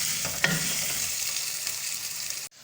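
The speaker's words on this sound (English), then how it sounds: "And then I leave now the onions to cook." Onions frying in a pan for pilau give a steady bright sizzle, with a short stirring scrape near the start before the sound cuts off abruptly.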